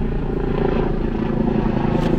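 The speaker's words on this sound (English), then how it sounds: "Oh, it's an orange helicopter." Continuous loud droning of an orange air ambulance helicopter overhead in Ontario, Canada, a dense steady roar with no pauses or voices.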